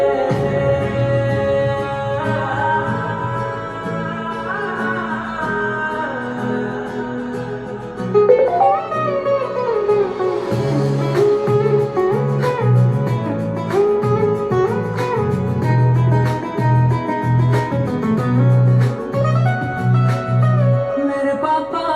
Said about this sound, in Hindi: तो ये गाना मेरे पापा के लिए मैंने बनाया है